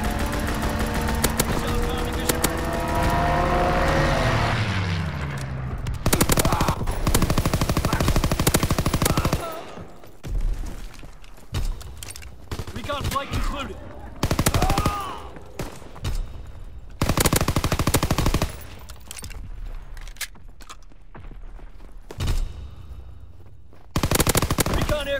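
Aircraft strafing runs in the Call of Duty WW2 video game, with long rattling bursts of machine-gun fire followed by choppy, intermittent volleys and brief gaps, loud and close, over game radio chatter.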